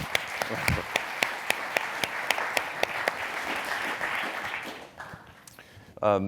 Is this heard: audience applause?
yes